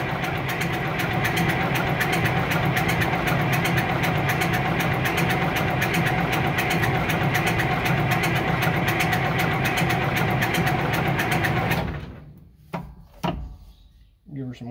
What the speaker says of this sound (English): I'll give it like a quarter throttle